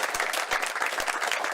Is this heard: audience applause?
yes